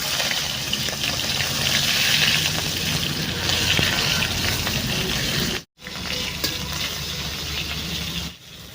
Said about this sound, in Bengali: এই শুকনো লঙ্কা ফোড়নে দিলাম